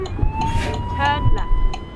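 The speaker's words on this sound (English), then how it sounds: "they've put police sirens in this properly" In the Euro Truck Simulator 2 video game, a police siren wails in a rising and falling sweep over a low truck engine rumble, with talk and bursts of noise mixed in.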